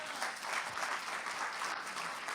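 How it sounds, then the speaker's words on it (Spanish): A church congregation clapping together, a dense sustained burst of applause filling the room without pause, fairly close and loud. "¿Alguien le puede dar un aplauso al Señor en esta hora?"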